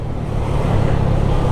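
Dense road traffic streams past a scooter in Thailand, a loud continuous engine and tyre rumble from nearby vehicles with no talk.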